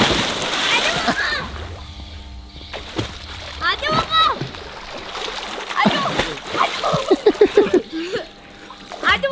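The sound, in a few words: splashing water in a swimming pool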